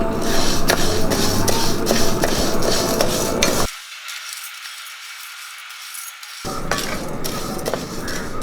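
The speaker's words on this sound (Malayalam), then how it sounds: "നമുക്കിതൊന്ന് വറുത്തെടുക്കാം" Lentils (masoor dal and moong dal) dry roasting in a pan, with a steady dry scraping and rattling of spoon against metal as they are stirred, pausing briefly in the middle before resuming.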